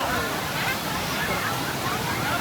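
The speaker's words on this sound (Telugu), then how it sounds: "ఆ కాలువ నుంచి వచ్చి వాటర్ అక్కడికి వెళ్తున్నాయి" Canal water pours into a stream at the Penna Badvelu water spot near Nellore, a steady close rushing roar with the babble of a crowd underneath.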